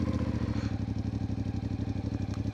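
A CFMOTO Ibex 450 motorcycle pulls away with a steady, throbbing engine note, close and loud, its rapid regular firing pulses carrying on without a break and without any talk.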